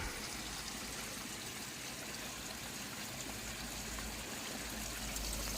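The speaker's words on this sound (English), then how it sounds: "they're filling up with water right now." Water rushes steadily into an OASE Screenmatic 39000 pond filter during installation at a large 120,000-gallon pond, a continuous broadband gushing and trickling wash heard close and fairly even throughout.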